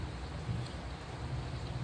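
Steady rain pours down in a continuous, even hiss with a low rumbling undertone, filling the whole moment with no pauses and no voices.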